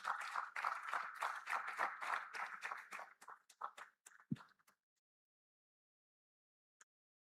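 Applause from a summit audience for a chief operating officer coming on stage, dense clapping that thins into scattered claps and fades out after about five seconds, followed by near silence and one faint tap.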